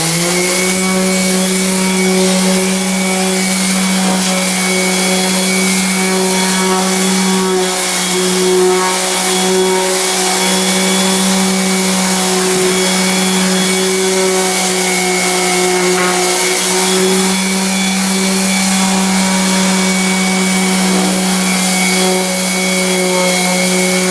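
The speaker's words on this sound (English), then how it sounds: "we're using an orbital sander to do this" An orbital sander grinds down a raised lip in a wooden floor during a hardwood flooring job, a loud, constant close-up motor drone with a steady buzzing tone throughout and no talking.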